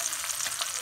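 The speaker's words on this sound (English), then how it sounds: "See, my meat's in there sizzling." Beef short ribs sizzle steadily in a hot pan on a stovetop, a bright crackling hiss heard up close with no talking.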